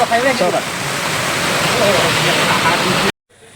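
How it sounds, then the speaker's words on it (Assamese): Heavy rain pounds on a car from outside, heard from within as a dense, loud roar with a brief voice early on, before it cuts out suddenly near the end. "চাই লওক বৰষুণ দবা পিটা বৰষুণ"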